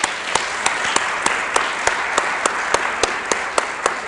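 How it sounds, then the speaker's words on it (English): A lecture audience gives a round of applause, dense sustained clapping with a few sharper claps standing out, no voices over it. "I'm wondering if we could just have a round of applause"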